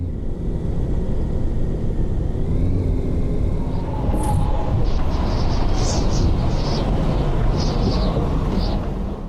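A taxi driven through Barcelona in a VR driving game gives off a low, steady engine rumble with road noise, joined later by scattered higher clicks and bursts.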